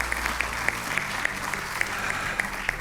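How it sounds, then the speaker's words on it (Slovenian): Studio audience at the Slovenian talent show Slovenija ima talent 2024 applauding: dense, steady clapping from a large crowd throughout, loud and continuous with individual claps popping out, voices faintly mixed in beneath. "En aplavz, prosim."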